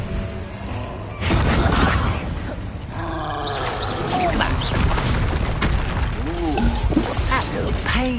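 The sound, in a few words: Confringo explosion spell in the Hogwarts Legacy video game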